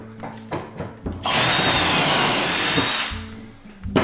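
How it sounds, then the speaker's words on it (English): A drill bores into wood through a Kreg Jig 520 Pro pocket-hole jig, whining loudly for about two seconds before spinning down, with short knocks of handling before and after. "you just drill into place"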